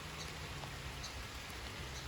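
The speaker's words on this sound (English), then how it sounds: "What you're hearing is the rain," Morning rain falls steadily on a spring cottage garden, a soft, even hiss of drops on leaves and ground with a low rumble underneath and no voices.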